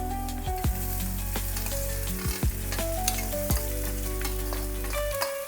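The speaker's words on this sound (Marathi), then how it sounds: "आता आपण याच्यामध्ये पोहे मिक्स करून घेऊया" Poha is stirred into onions already fried soft with turmeric in a hot pan, giving a steady sizzle with scraping stirs over tonal background music.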